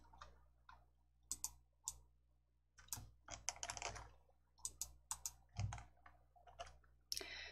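Quick clicks and keystrokes on a computer mouse and keyboard while a Korean word-processing document is formatted, sounding as close, sharp, irregular taps in short bursts with no talking.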